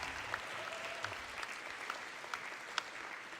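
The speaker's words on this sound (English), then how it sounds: "And also a round of applause for our amazing teachers." Faint, steady applause from an audience at an eighth grade recognition ceremony for teachers, many hands clapping at a distance with a few sharper claps poking through.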